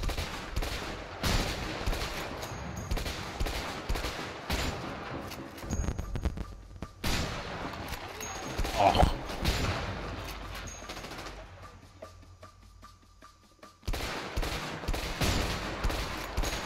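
Repeated bursts of gunfire in the co-op video game A Way Out, loud volleys with brief lulls and a quieter stretch midway, like an extended firefight heard up close.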